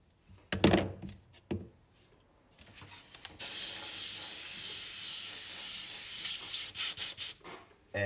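Airbrush spraying yellow candy paint for flame artwork, opening with a few short bursts and clicks, then a long, loud, steady hiss of air up close before several short sputters at the end.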